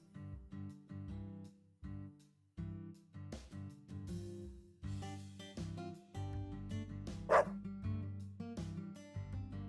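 A Dalmatian barks in the video game Deadly Premonition 2, a series of loud, close woofs and yips at uneven intervals, with short pauses between bursts and one brief whine.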